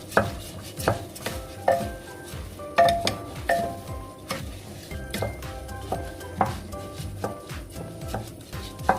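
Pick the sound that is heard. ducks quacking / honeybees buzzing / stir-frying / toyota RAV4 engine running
stir-frying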